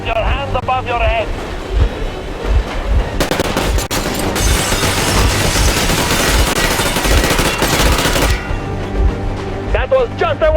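Machine gun warning shots in the Metro Exodus video game: a sustained burst of loud automatic fire about five seconds long, mid-clip, over a steady engine and water drone with voices before and after.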